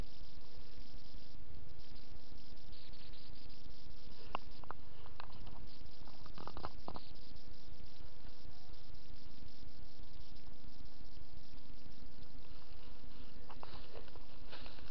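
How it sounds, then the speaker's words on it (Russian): A swarm of mosquitoes in a spring forest with blooming bilberry, a steady dense insect whine and hum filling the air continuously, with occasional faint rustles and no talk. "И море уже комарей"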